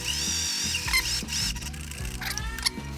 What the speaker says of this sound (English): start stitching